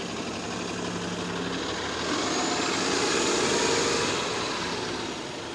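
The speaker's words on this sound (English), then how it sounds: "There goes the 94 Wellesley bus." The 94 Wellesley city bus in rainy downtown Toronto rumbles past up close, its engine swelling loud and then easing, with a steady hiss of wet road and air underneath.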